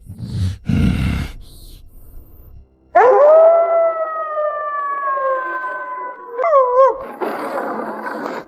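A cartoon husky in an animated drama lets out one long, loud, wavering howl that bends upward near its end. Brief noisy bursts come before it, and a rough noise follows.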